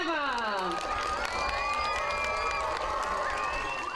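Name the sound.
audience applause and cheering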